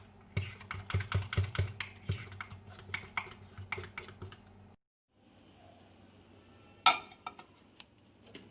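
A spoon stirs eggless mug cake batter, with vanilla essence and vinegar in it, inside a mug. Quick, irregular clinks and taps go on for several seconds, then a pause and a lone sharper clink. Quiet and close.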